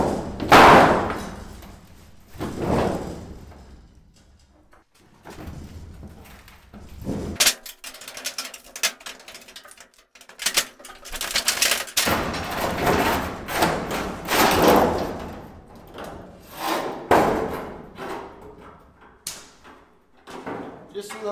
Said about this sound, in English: the possibility is there that I have to use this pry bar to force it out